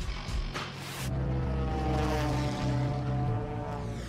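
A Yak airplane's propeller engine runs close by, a loud steady drone with a harmonic hum that holds and swells slightly across the few seconds, with no voices.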